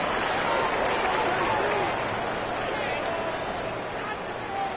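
Stadium crowd noise from an EA Sports football video game during a Super Bowl matchup between Kansas City and Arizona: a dense, steady roar of a large crowd, broad and continuous, with cheering swells and no clear individual voices.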